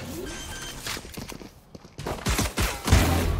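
Gunfire in a round of the online shooter Apex Legends: a dense burst of sharp cracks and rapid shots, fairly loud and irregular, with quieter scattered impacts between and an explosive cluster near the end.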